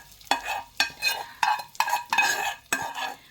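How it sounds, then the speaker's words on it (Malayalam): A spoon stirs fried mustard seed tempering into carrot pachadi in about six distinct scraping strokes, each a bright, close swish with a faint sizzle, in an even rhythm with short pauses between them. "അങ്ങനെ കടുക് വറുത്ത് നമ്മൾ ഇതിലേക്ക് ചേർത്ത് നമ്മുടെ ക്യാരറ്റ് പച്ചടി റെഡി"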